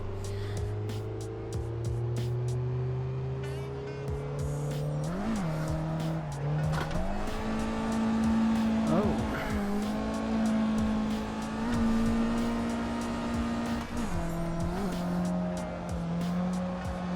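A stock Mazda Miata in the Assetto Corsa racing game, its engine droning steadily while the tyres squeal in long skids through a drift, loud and continuous with pitch shifts as the revs change.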